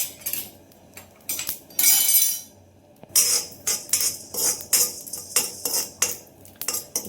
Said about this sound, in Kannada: ಪಾತ್ರೆ ಬಿಸಿ ಆಗ್ತಿದ್ದಂಗೆ ಇದು ಮಸಾಲೆ ಐಟಮ್ಸ್ನ ಸೇರಿಕೊಂಡು ಸ್ವಲ್ಪ ಡ್ರೈ ರೋಸ್ಟ್ ಮಾಡಬೇಕು.